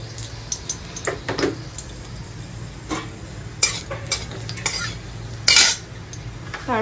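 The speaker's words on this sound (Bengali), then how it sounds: "তো প্রথমে আমি একটু শুকনো লঙ্কা ফোড়ন দিয়ে দেব।" Dried red chillies tempering in hot oil in a slightly scorched wok: brief crackles and sizzling bursts with spoon-against-pan stirring clinks, close and moderately loud, no speech.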